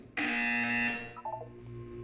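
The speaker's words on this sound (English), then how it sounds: "When you hear the buzzer, look up at the ceiling." A buzzer from the Portal 2 video game, one loud harsh electronic tone held for nearly a second, then cut off and trailed by a few fainter electronic blips.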